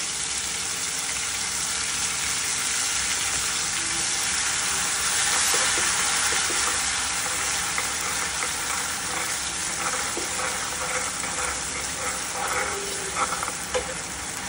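Garlic and cumin paste sizzles loudly and steadily in a pan for a dhaba-style palak paneer, a dense continuous frying hiss with faint stirring scrapes, no voices.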